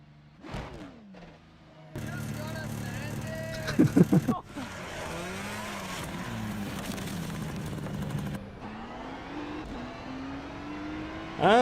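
A Ferrari GT3 race car engine in a racing game at Silverstone, revving loudly and steadily with rising and falling pitch through gear changes and a sharp burst of shifts midway, with a voice talking briefly at the start.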